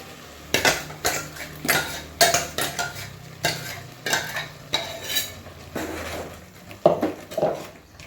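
Metal spoon clinks and scrapes repeatedly against a cooking pot as masala is added and stirred for radish sambar, a steady series of close, fairly loud knocks over a low background hum.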